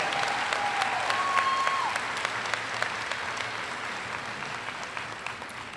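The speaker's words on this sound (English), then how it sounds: "Please give our faculty a round of applause as they have helped get you to this day." A graduation audience at a 2019 high school ceremony applauds its faculty, with steady, dense clapping from a large crowd that holds fairly even before easing slightly, plus a faint tone drifting over the top.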